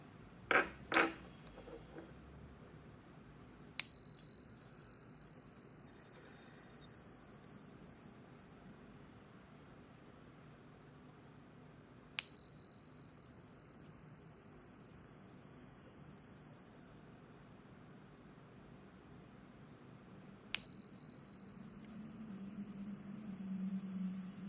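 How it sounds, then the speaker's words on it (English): Three separate strikes of a metal chime ring out before a tarot reading, each one clear and sustained and slowly fading over several seconds, spaced about eight seconds apart. A couple of faint light taps come before the first strike, and no one speaks. "But first, let's chime."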